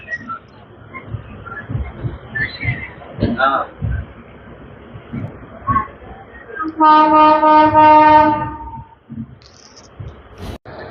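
The Coimbatore–Chennai Intercity SF Express runs along the track with a rumbling ride, people talking nearby, and a loud sustained horn blast of about a second and a half late in the run.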